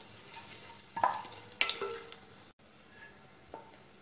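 Whole biryani spices fry in hot oil with a quiet, steady sizzle, broken by a few sharp stirring clinks and scrapes of a utensil against the pan.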